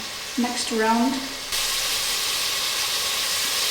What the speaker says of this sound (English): I really just sear it on one side, and then I just stir it a bit